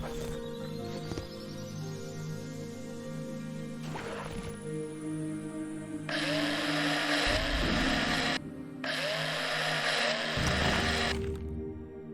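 A steady mechanical drilling whine with a rising electronic tone, grinding on and off over a low droning hum, as a paint-filled tank is drilled in the game Breathedge.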